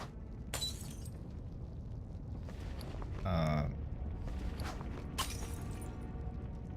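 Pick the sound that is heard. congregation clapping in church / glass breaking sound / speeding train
glass breaking sound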